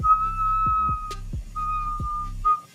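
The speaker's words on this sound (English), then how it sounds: "Hopefully the mic is picking up that whistle" High steady whistle from a glassblowing torch during a live session, holding for about a second, then returning in shorter bursts over a pulsing low rumble of repeated roaring surges, close and fairly loud.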